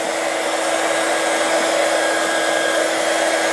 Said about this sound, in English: Heat the stickers with the heat gun.